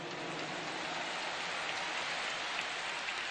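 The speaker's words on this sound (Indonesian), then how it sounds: "Tepuk tangan buat semua yang hadir di sini." Dense, steady applause from an audience at an Anies Baswedan mass rally speech, a continuous hiss-like clatter of many hands at moderate distance, with no voices over it.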